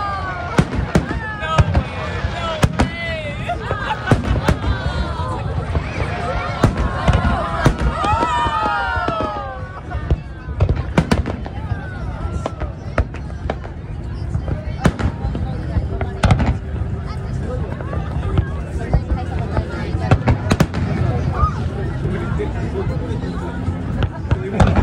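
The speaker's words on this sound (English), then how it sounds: "Some big bottle rockets." Fireworks and big bottle rockets bursting over downtown San Diego, with loud booms and crackling pops in irregular succession, whistling rockets rising early on, and people talking and cheering nearby.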